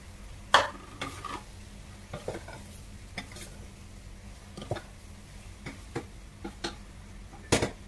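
A spoon stirs vegetables with eggplant and long green chili in a pot of Filipino ginataang gulay with dried squid: irregular close knocks and scrapes against the pot over a faint, low simmering hiss.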